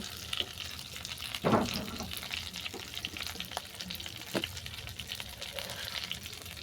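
Vegetables for sukto with drumstick leaves being stirred in a hot pan, a steady close sizzle with a few sharper scraping strokes from the spoon.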